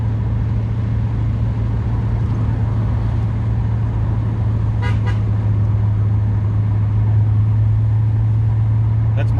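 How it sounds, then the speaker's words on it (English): A car horn sounds in two short honks around the middle, heard from inside a vehicle over a steady low engine hum and road rumble. "honk the horn."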